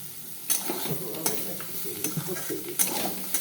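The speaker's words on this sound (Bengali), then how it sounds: "এখানে করলা ভাজা।" Bitter gourd (karela) frying in a pan gives a steady soft sizzle, broken by sharp metallic clinks and scrapes as it is stirred, with no talking.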